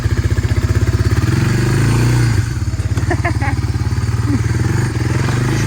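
A four-wheeler ATV engine that sometimes chokes out idles steadily nearby with a loud, even chugging pulse, dipping slightly partway through, while a few faint clanks and rattles sound over it.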